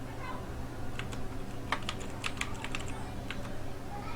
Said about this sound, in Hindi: मैंने यहाँ ईमेल आईडी डाल दिया, यहाँ पासवर्ड, यहाँ नाम लिख दिया